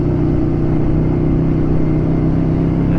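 A Ducati Scrambler motorcycle climbs a gravel dirt road in second gear, its engine a close, steady low drone with an even, unbroken tone throughout.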